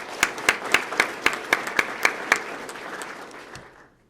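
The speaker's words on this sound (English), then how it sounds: "Let's give her a round of applause." A round of applause at a Sarasota Police Department swearing-in ceremony, with roughly a dozen sharp, evenly spaced claps standing out above the steady crowd clapping before it fades away.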